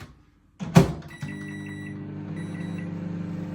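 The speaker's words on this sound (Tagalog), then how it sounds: "Tapos, start na natin ng microwave." A microwave oven heats a packed lunch bought in Guernsey: a door clunk and a brief beep, then a steady electrical hum that runs on alone at moderate level.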